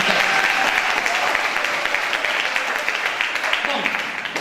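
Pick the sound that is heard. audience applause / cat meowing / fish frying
audience applause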